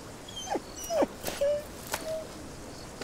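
A frightened dog, fearful of water, lets out several thin whimpers and whines in short bursts, moderately close, with quiet background between them.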